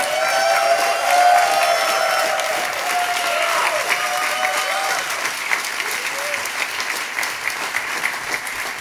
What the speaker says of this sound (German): Ein Applaus für Jade Pearl Baker.